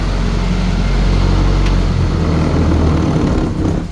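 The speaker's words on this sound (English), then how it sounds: "Throttle's revving up a bit high." The engine of a 1948 Willys Jeep under fuel system repair runs at a fast, high idle, a loud steady close-up drone with a strong low rumble that eases slightly at the end.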